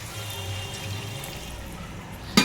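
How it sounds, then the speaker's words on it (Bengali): Water poured into a pan of okra and potato curry, a low steady splashing and hiss heard alone for a couple of seconds, ending with a sharp clatter. "জল দিয়ে দেবো।"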